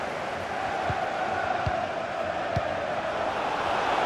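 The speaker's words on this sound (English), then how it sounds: "The crowd certainly think so. Just listen to them." A large stadium crowd roars in a steady, broad wash of noise in the FIFA 23 video game during a Champions League match between Liverpool and Rangers, with a few dull thumps and no clear speech.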